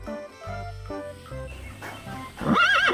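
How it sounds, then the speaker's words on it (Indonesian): A brown horse gives a loud, close neigh that rises into a quavering whinny at the end of a short stretch of other tonal sounds, with no talking. "Ini namanya kuda."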